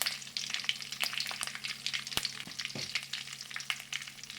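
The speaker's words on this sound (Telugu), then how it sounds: "కొద్దిసేపు వేగిన తర్వాత ఎండుమిర్చి వేసుకోవాలి." Dry red chillies fry in a pan with chana dal for curry leaf rice, giving a steady, soft sizzle broken by sharp crackles and occasional scraping stirs, close and with no talking.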